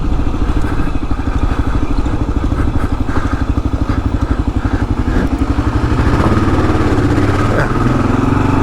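A Kawasaki KLR dual-sport motorcycle rides through the desert, its single-cylinder engine thumping in a rapid, loud, close pulse with clattering from the rough terrain, shifting pitch near the end.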